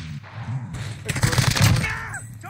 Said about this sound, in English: There's guys shooting at us from the tower.